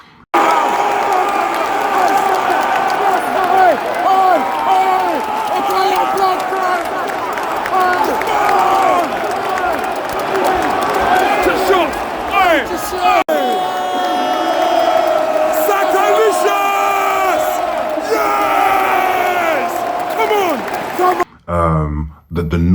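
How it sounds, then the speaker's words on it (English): Arsenal home crowd at the Emirates Stadium roaring after a Saka goal against Manchester United, a loud massed roar with whoops, cheers and shouting that surges and swells, broken briefly near the end. "The noise of the crowd, the roar was sensational."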